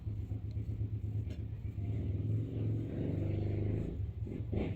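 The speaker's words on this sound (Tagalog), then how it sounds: "Paminawa ron tingog sa motor" A motorcycle engine idles and rumbles steadily up close outside a house, a low continuous drone with slight rises in revs throughout.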